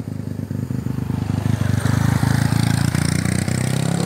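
Motorcycle engine running over a steep, rough village road, a steady mid-pitched rumble with clattering pulses that grows slightly louder and closer, heard alone without talk.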